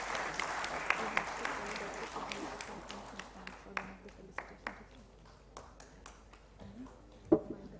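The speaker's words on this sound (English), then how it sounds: "A huge round of applause for these winners." An award ceremony audience at a youth conclave claps for the prize winners, with scattered applause fading into a few separate claps and a sharp late clap.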